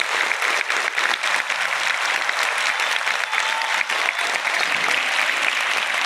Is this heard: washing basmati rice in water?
no